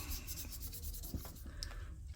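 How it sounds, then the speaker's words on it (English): Soft, rhythmic rubbing strokes of 2000-grit sandpaper wet-sanding the paint on a small die-cast toy car, quiet and close, with faint scratchy swishes repeating back and forth. "So after a fair bit of sanding,"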